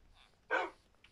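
A single short dog bark from the video game Blockstar X, one quick yelp-like burst at moderate loudness against near silence.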